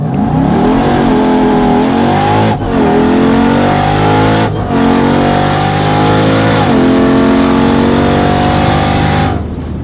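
A 1000 hp Jeep Trackhawk accelerates hard through several gears, its loud, close engine rising in pitch, dropping briefly at each shift and climbing again, with no talk.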